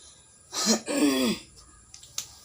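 A single throat-clearing cough, two short harsh bursts close by, followed by faint clicks in a quiet room.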